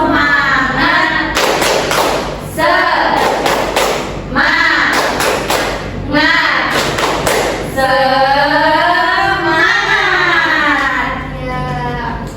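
An Indonesian elementary school class performs the 'tepuk semangat' clapping routine, with sharp rhythmic clap bursts in groups alongside loud children's voices chanting together.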